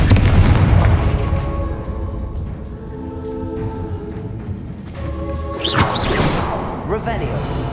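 Confringo fire spell in the Hogwarts Legacy video game, sounding as a loud rumbling blast that swells into a crackling burst and then rolls off beneath heavy ambient game noise, with a voice speaking over it.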